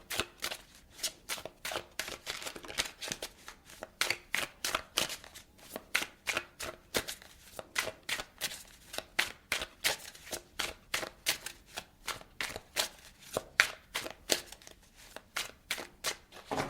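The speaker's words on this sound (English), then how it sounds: "I'm going to clarify the cards and pull some advice." Tarot cards are shuffled in a steady, rhythmic series of crisp riffles and slaps, close and clear with no talking.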